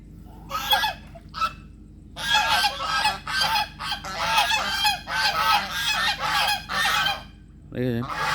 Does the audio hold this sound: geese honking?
yes